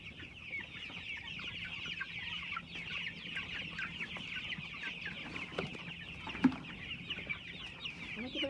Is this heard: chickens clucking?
yes